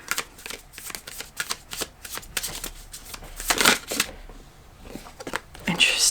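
A tarot card deck being shuffled at close range, a run of quick papery riffles and snaps in bursts, with brief bits of quiet talk mixed in.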